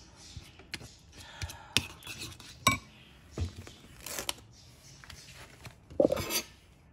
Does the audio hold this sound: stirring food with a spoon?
yes